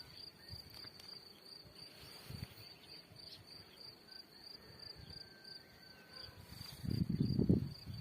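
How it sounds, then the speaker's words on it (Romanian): Honey bees at their beehives make a steady insect buzz with a thin high whine running throughout, rising to a louder, fuller burst of low buzzing near the end. "Am revenit cu vărul Gheorghe la stupii de albine."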